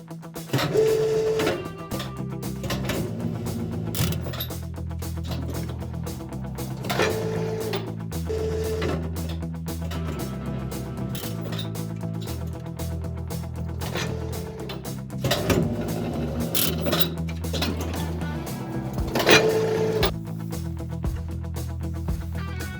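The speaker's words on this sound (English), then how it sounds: "a final trim on a hydraulic cutter" A hydraulic cutter gives a final trim to a model hawk mobile, producing a continuous mechanical whir with repeated clunks and clicks throughout.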